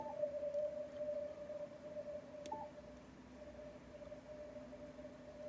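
A faint, steady low-power amateur radio signal hums beneath heavy hiss and static on an FTdx5000MP with a Cushcraft R5 antenna, barely rising above the noise floor, with no voices.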